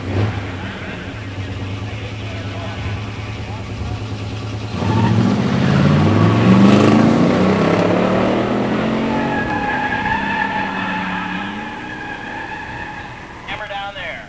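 A 1970 Judge with a Ram Air IV automatic and a 1987 Mustang 302 five-speed launch at a pure stock drag strip: idling engines, then a loud surge of revving exhaust climbing through the gears and fading into the distance.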